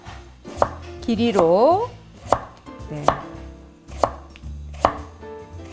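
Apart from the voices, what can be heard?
knife chopping radish into julienne strips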